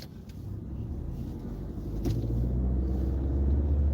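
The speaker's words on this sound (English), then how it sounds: "So we're dealing with this traffic jam right now." Cars idling and creeping in a traffic jam, heard as a steady low engine rumble from inside a vehicle that swells slightly partway through, with no voices.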